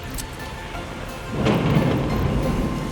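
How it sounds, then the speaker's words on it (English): Thunder from a passing storm and typhoon, a sudden deep crack followed by a heavy rolling rumble that grows louder and lingers over steady background noise. "I didn't expect such a loud thunder."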